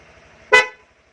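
A Honda Click V3 scooter's stock horn gives a single short, loud, bright honk after a faint electrical hum, then stops.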